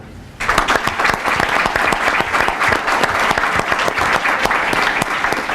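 Audience applause at a school board of education meeting honoring PTA presidents, a dense steady round of clapping that starts abruptly after a brief quiet moment and continues at full strength throughout.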